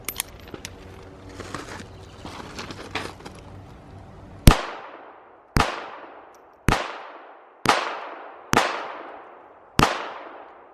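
A Rock Island Baby Rock .380 ACP 1911 pistol fires six sharp, loud shots about a second apart, each with a ringing decay, after some rustling handling noise.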